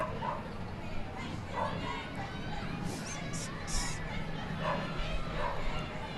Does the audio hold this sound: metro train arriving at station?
no